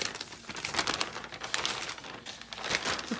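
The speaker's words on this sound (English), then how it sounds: "I'm going to cut off the bottom of the bag." A plastic bag crinkles and rustles while being cut open with scissors, close and steady with sharp crackly bursts over about three seconds.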